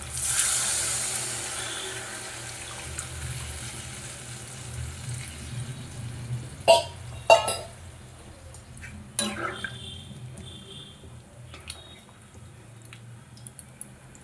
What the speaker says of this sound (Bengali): এবারের মধ্যে জল দিয়ে দেবো